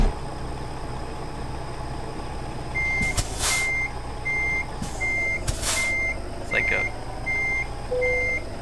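Truck in American Truck Simulator backing up, with a regular reverse alarm beeping in steady pulses over a low idling engine rumble, broken by a few short hiss bursts like air brakes; someone speaks briefly at one point.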